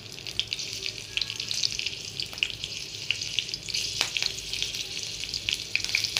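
Green chilies fry in hot oil with black cumin seeds, giving a steady, close hiss and sizzle with small crackling pops throughout and no speech.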